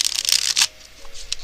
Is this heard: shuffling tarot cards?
yes